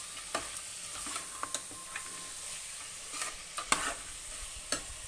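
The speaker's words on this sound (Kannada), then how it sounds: "ಒಂದೇ ಒಂದು ನಿಮಿಷ ಇಟ್ಟರೆ ಎಣ್ಣೆ ಒಳಗೆ ಒಂದು ಫ್ರೈ ಮಾಡ್ಕೊಂಡಿರುತ್ತೆ" Vegetables and tomato frying in oil in a pot for dal khichdi give a steady, soft sizzle, with a spoon stirring and tapping the pan in light, irregular clinks, quiet and close.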